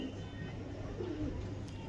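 Antique Ferozpuri breeder pigeons in a loft give a single soft, low coo that sits faintly under a steady background hum.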